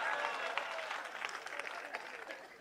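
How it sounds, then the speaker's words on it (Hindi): Audience at a Hindi kavi sammelan poetry recital bursts into dense clapping that swells loudly and then thins out over a couple of seconds, with crowd murmur mixed in. "ताली बजाओ"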